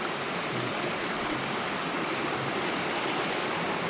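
A village river flowing and babbling at night in the monsoon season, a dense, even rush of water that stays steady throughout with no voices.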